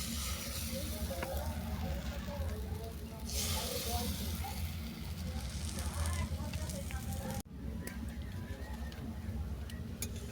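Pumpkin leaf fritters fry in hot oil in a kadai with a steady, soft sizzle and crackle running the whole time, briefly cut by a short gap near the end.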